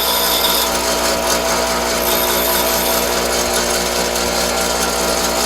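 A bench grinder dresses the back of a lathe tool on its rough wheel, giving a loud, continuous high-pitched grinding whine with a steady motor hum and no talking.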